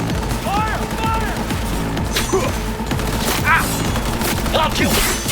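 Rapid gunfire from the video game Cyberpunk 2077 rattles in dense, overlapping bursts, loud and continuous, mixed with game music and shouted voices.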